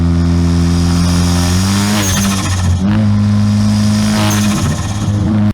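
A loud car engine revs and drops, its pitch sweeping down and back up, with sharp crackling exhaust pops between the revs.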